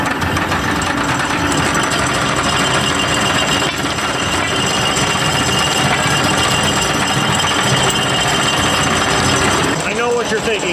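Anchor chain paying out through a boat's windlass with the brake on, a loud, continuous rattling clatter with ratchet-like mechanical clanking that runs steadily for several seconds.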